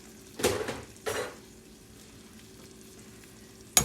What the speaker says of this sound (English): We're going to just stir this up.